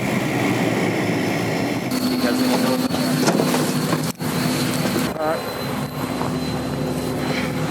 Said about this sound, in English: first we have to land an airplane on ice and make our way to camp